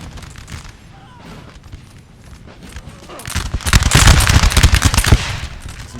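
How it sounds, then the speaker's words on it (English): Musket volleys in the Napoleon Total War 3 video game battle, scattered crackling shots at first, then a dense, loud burst of rapid overlapping gunfire with deep booms in the middle seconds before thinning out. "Some good volleys off."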